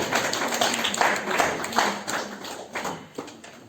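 An audience at an international Hindi scholars' gathering in a hall in Narnaul claps in welcome, a steady patter of many hands with rhythmic peaks, moderately loud and fairly close.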